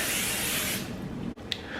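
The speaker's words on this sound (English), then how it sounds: "don't forget to spray it with oil spray because they will stick" Oil cooking spray hisses steadily onto a parchment-lined baking sheet, one continuous burst lasting most of a second, then a brief pause and a short second puff.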